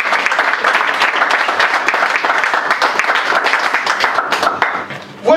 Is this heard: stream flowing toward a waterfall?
no